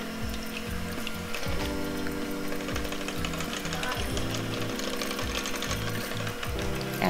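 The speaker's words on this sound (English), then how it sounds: "we're just gonna whisk that away" A whisk or electric mixer beats blended gluten-free oatmeal muffin batter in a mixing bowl, a continuous buzzing, rattling whir with shifting pitch that runs steadily throughout.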